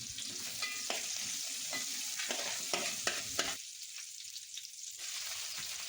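Garlic-ginger paste and chillies frying for a fish curry, giving a steady close sizzle throughout with a few scraping stirs of the spoon near the start.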